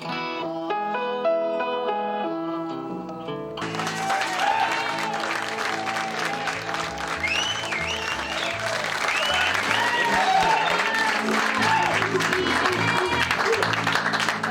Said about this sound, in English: So clap freely, I guess.